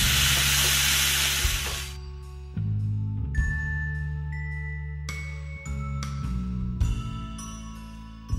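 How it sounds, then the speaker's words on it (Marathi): Grated beetroot and coconut sautéing in a pan give off a steady hiss and sizzle, with a few light clinks from stirring, fairly close and with no voices. "आपलं बीट आणि नारळ इथे छान मिक्स झालंय आणि थोडंसं परतलंही गेलंय"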